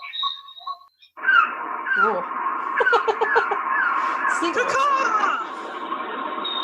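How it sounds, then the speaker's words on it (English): Birds chirp from a tiki bar's sound effect, a steady stream of small high twitters and trills playing in the background while people talk close by. "You can hear the birds chirping."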